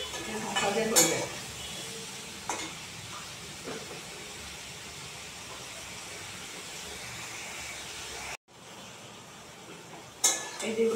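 Potato and eggplant fry in a pan with jaggery and turmeric, giving a steady, moderate hiss of frying with a few clinks of a stirring utensil and a brief dropout near the end.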